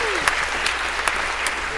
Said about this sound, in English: So maybe a round of applause for our volunteers here.